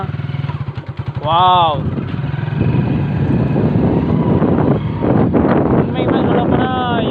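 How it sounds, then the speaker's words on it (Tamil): A Hero Splendor Plus BS4 motorcycle rumbles steadily on a test ride, its engine under heavy wind buffeting on the microphone, with someone speaking briefly over it near the start and a whistle-like tone rising and falling. "இப்போ வாங்க நம்ம வந்து வண்டியை டெஸ்ட் ரைட் பார்த்துருவோம்"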